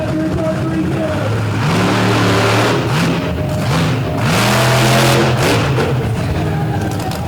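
A drag racing car with a Brad Anderson Hemi engine launches and revs in loud, rising and falling bursts of roaring engine noise, with an announcer talking over the racket at a crowded track event.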